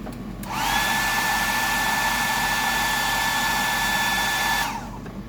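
A hair dryer blows on freshly painted pattern work on a Little John, switching on with a steady whining hum that runs evenly for about four seconds and then cuts off, near and alone.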